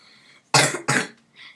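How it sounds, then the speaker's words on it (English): Two sharp, close coughs in quick succession, each loud and harsh, followed by a softer throaty exhale. "Sorry guys, I have a little bit of a cough."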